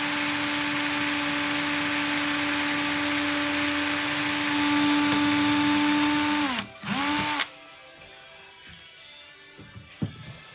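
An electric drill whines steadily at high speed drilling into wood, then winds down and stops with a brief restart, followed by quiet shop clatter and a couple of small knocks.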